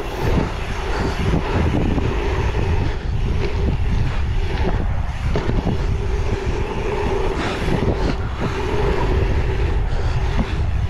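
Strong gusting wind buffets the microphone outdoors at an open-air skatepark with bowls and a pump track in February, a steady loud roar with no talk.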